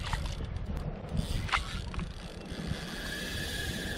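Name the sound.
fishing reel drag clicking as a hooked fish runs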